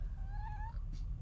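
A cat gives a single drawn-out meow that rises and falls, close but fairly soft, over a low rumbling background, followed by a brief faint rustle.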